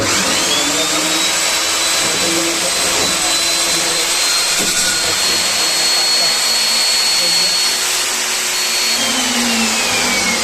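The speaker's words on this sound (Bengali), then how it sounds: "আমরা এই নতুন মেশিনটা কিনে এইমাত্র আমরা 2টা ছিদ্র করছি" A newly bought core drilling machine bores holes, giving a loud, steady, unbroken whine for about ten seconds with a slight rising tone at the start.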